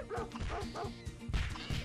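Dog barking in the video game Save Your Nuts, several short yipping barks and whimpers in quick succession, moderately loud over a faint game background.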